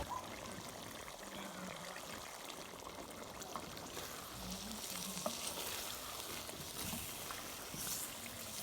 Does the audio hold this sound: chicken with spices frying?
yes